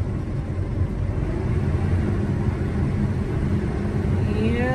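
A combine harvester running at low idle with its header engaged: a loud, steady mechanical rumble and drone, with a rising whine of the spinning header building toward the end.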